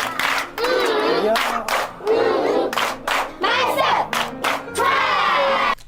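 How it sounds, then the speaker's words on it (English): A crowd claps and cheers in loud bursts, with shouts and whoops breaking through between rounds of applause and brief pauses between the surges. "Now give him a love clap."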